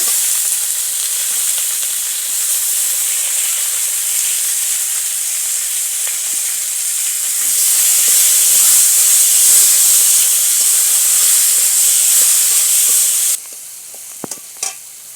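Green chilli and chopped tomato hit hot oil in a pan for vegetarian dal, giving a loud, continuous sizzle and hiss that swells midway, then drops abruptly to quiet stirring clicks near the end.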